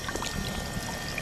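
Water from an outdoor hose runs and pours steadily, with a continuous splashing rush and no pauses, close by and moderately loud.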